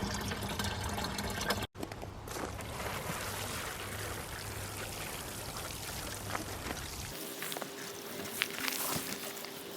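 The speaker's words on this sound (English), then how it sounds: "now I'm going to water it" Water pours from a can onto compost in an allotment bed, a soft continuous splashing trickle at close range, with no talk.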